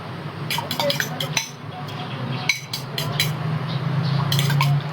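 Utensils clink and scrape against a bowl as food is mixed during home cooking, making rapid irregular metallic taps over a steady low kitchen hum, close and fairly loud.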